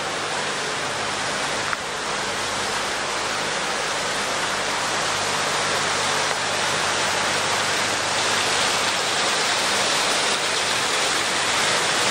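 A dense, roaring rush of water gushes steadily and loudly without pause from the Ashland Geyser in Pennsylvania, like a powerful spout pouring out.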